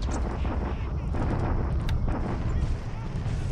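Dense booming explosions and gunfire from a bombardment in a World War II Japan-versus-Allies strategy video game form a continuous loud rumble of overlapping blasts.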